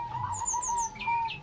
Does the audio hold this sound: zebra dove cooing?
yes